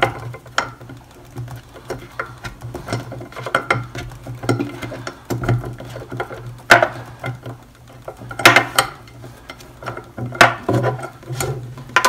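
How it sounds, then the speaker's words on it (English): A nipple wrench unscrews the nipple from a .54 caliber Hawken Woodsman black powder rifle, producing close, faint metallic clicks, scrapes and ratcheting taps in an irregular run over a low hum. "with a nipple wrench, I can remove the nipple just by unscrewing it"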